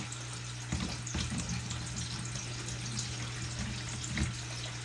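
Water poured into a small container for frog tadpoles, kept about an inch deep, gives a steady soft rushing trickle with a low hum underneath, fairly faint and continuous, without talk.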